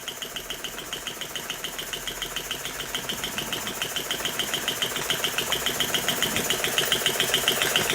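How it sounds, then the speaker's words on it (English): A 1920s Elektro model steam engine running steadily, a fast, even mechanical chuffing and ticking pulse, close and fairly quiet, growing slightly louder over time. "this is a very old engine. So it's so nice to see it running."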